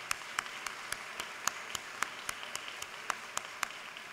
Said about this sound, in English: give Tim Quinn and the staff a great round of applause